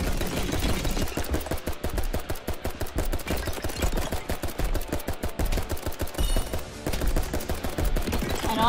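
Rapid bursts of gunfire from the Roblox game Giant Survival, loud dense strings of shots that rattle on almost without pause, with a few short gaps and faint voices mixed in.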